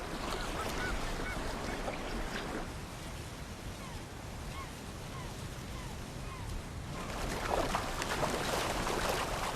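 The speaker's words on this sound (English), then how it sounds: "Listen to the birds call just for you." Birds call in short, repeated chirps over a steady wash of surf and wind, the calls faint and scattered across the ambience.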